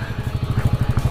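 Motorcycles on an off-road mountain trail in the Jammu area give a brief, close, rapid engine putter with a steady pulsing rhythm.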